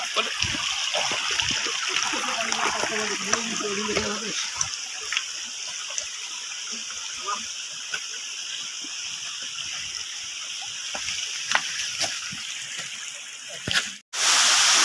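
Continuous shallow water trickling and splashing over small stones at Tunki waterfall, close and steady, with a brief bump near the end.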